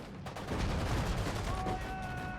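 Faint, dense gunfire crackles through a Sudden Strike 4 battle during an Allied defense at Dunkirk, rapid overlapping shots rattling at a distance for a couple of seconds.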